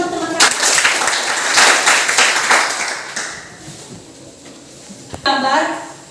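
Students in a Christian religious education class clap for their classmates, a burst of applause that tapers off before a voice resumes speaking near the end.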